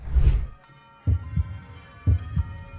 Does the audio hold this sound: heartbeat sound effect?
yes